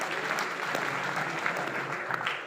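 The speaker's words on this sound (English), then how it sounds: "Okay, give a round of applause to yourself." Steady audience applause fills a hall during a business speech at a holiday villa in Doha, Qatar, a dense, even wash of many hands clapping that holds at a consistent level throughout without pause.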